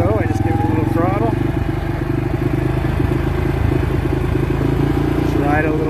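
A 2022 CForce 500 ATV on a high mountain desert ride with light throttle applied. Its engine gives a steady, close, loud droning hum that holds a constant pace, with a voice talking over it.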